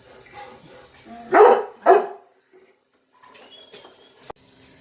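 A pet dog gives two loud barks in a row from inside a home kitchen, reacting to a cat, followed by quieter household rustling and a brief click.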